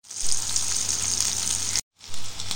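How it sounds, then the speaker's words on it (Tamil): Marinated paneer pieces deep-frying in hot oil for paneer pakoda, a loud, steady close-up hiss and sizzle that cuts out briefly and then resumes with a fresh burst, with no one speaking. "எண்ணெயை நல்லா காய வச்சு இந்த பன்னீர் துண்டுகளை போட்டு பொரிச்சு எடுத்துக்கலாம்."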